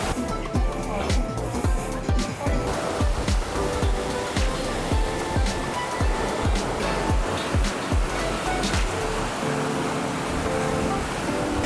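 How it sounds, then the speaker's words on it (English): Loud ocean surf rolls in continuously on a beach in Fiji, with repeated crashing waves and a constant roar of wind and water close by. "Nice breeze blowing, a lot of waves coming up."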